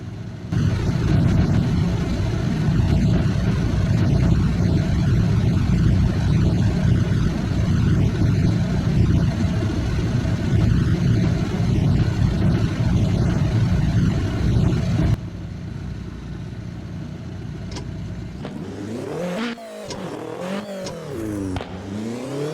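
A turbocharged car engine in the Assetto Corsa racing game holds a loud, droning high rev against the rev limiter for about fifteen seconds. After a sudden drop it fades into rising and falling revs with quick engine blips.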